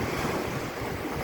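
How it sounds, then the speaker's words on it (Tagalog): Big ocean waves surge and wash steadily beside a small wooden fishing outrigger at sea, a continuous loud roar of surf mixed with gusting wind buffeting the microphone, with no voices. "Malaki pa alon"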